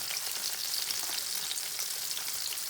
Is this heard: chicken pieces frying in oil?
yes